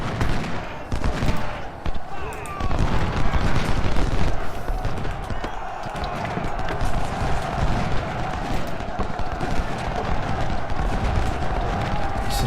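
Cannon shelling and gunfire in the Ultimate General: Civil War video game: a dense, continuous battle din of rattling volleys and booms over steady background noise, with no clear talk.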